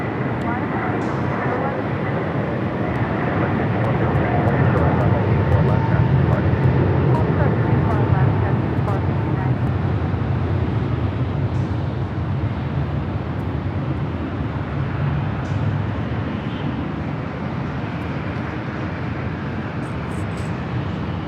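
Airliner taking off from runway 24 left at LAX, a sustained broad jet roar that swells and holds for about twenty seconds, heard from a distance and steady throughout.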